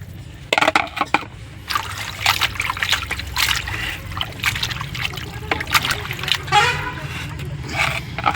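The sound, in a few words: pouring water into a bowl while washing chicken meat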